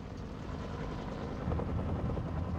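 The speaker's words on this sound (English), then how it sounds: "equipped with dozens of Piasecki H-21 Shawnee transport helicopters" Steady, loud rotor rumble of a Piasecki H-21 Shawnee transport helicopter flying close by, with a throbbing low drone that swells slightly louder partway through.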